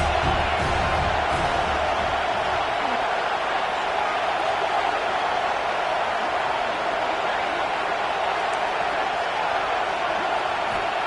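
A college football stadium crowd roars steadily and loudly throughout, a dense wash of cheering and yelling aimed at the opposing offense, with no pauses.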